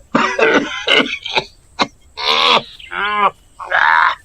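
A person coughs hard with a bad cold and fever, giving a quick cluster of rough coughs followed by three longer, throaty, voiced hacks separated by short pauses, close up and loud.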